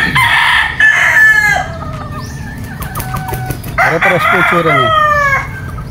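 Native game fowl, claret and bullhen breeds at a game farm, crow and cluck loudly and close by, with overlapping calls through most of the stretch and a brief spoken remark mixed in.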